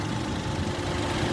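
Daihatsu Ayla 1.0 three-cylinder engine idling with the hood open, a steady, even, close hum that runs without break; no talking.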